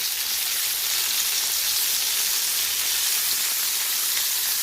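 Chicken cutlets fry over high heat in a pan, giving a loud, continuous bright sizzle with a steady hiss throughout and no voices.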